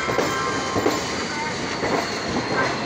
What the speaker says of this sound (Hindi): देखना होगा ये कौन सी ट्रेन है जो ओवरटेक करने वाली है शर्मगिरी को